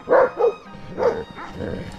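A dog barks from behind an electric fence on a mountain hike in the Dévoluy, France, a few loud, deep woofs, two quick ones then a pause and more barks, fairly close.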